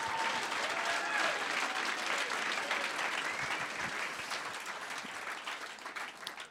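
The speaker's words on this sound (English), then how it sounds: "So a big round of applause for them." Applause from an evening event audience, a broad roar of many hands clapping that holds strong for several seconds, then gradually tapers off toward the end.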